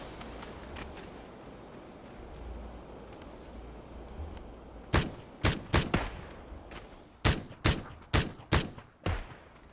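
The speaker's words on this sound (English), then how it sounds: "Keep shooting for a sec." Gunfire in PUBG, a quiet ambient stretch followed by a run of sharp, loud shots in irregular bursts from about the midpoint onward, close and punchy.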